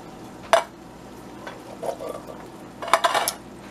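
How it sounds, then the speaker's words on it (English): Drained canned pinto beans being added to cooked ground beef in a pot for cowboy stew, with two sharp metallic clanks of utensil against the pan and softer scraping and stirring between them, close and alone. "now what I'm going to do is add 2 cans of pinto beans"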